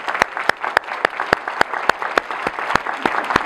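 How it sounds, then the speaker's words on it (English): A room of attendees applauds at an event. Strong, steady applause is punctuated by a sharp, evenly spaced clap roughly every quarter second that stands out near and loud above the crowd. "A round of applause for that one."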